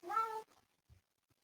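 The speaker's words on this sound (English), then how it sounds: "He meows when I read Torah." A male cat lets out one clear, close meow followed by faint soft sounds and quiet in an indoor room.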